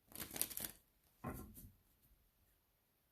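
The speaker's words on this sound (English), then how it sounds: "Let's get 2 more shuffles." Cards are shuffled for a horoscope tarot-style reading: a rapid riffling burst, then a second shorter shuffle, close by in a quiet room.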